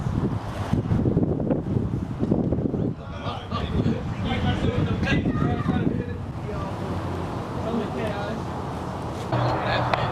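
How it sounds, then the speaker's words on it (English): Gusty wind buffets the microphone in loud, rumbling bursts, with a person talking faintly underneath. "You probably can't hear me because it's windy"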